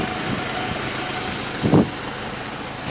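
A Volkswagen Bora with dual exhaust idles, a steady low engine rumble heard from close by, with one brief louder thump partway through.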